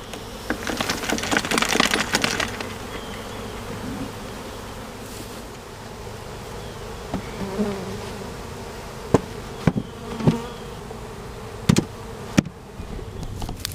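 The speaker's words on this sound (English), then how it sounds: "These are usually workers that are cooling off and guard bees, so they can get a little ornery when you do this to them." A honeybee swarm of worker and guard bees, moved into a barn, keeps up a steady close buzzing, with sharp loud bursts as individual bees zip past near the end.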